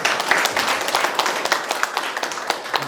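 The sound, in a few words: audience applause at a lecture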